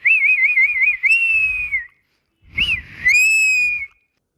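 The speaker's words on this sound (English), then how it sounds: "He let out the whistle." A person whistles loudly and close in two shrill phrases, the first a trilling warble settling into a held tone, then after a short pause a rising chirp followed by another long sustained note.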